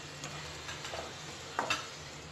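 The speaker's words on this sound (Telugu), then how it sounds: "ఒకసారి బాగా కలుపుకోవాలి." A spoon stirs chili powder, coriander powder and garam masala into a pan of mushrooms cooking for biryani. A soft sizzle runs underneath, with a couple of sharper scrapes and clinks near the end. The sound is close and fairly quiet, with no talk.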